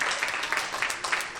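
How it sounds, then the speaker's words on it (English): A church congregation claps together in a dense, continuous patter of many hands at a sermon, and voices can be heard mixed in. "Clap your hands."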